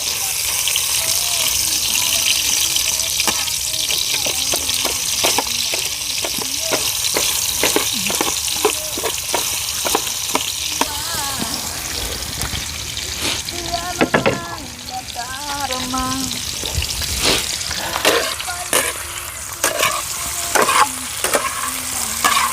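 Large onions sizzle in a pan while being stirred, with steady frying crackle and frequent scraping, clattering strokes of the utensil. Faint speech can be heard at moments.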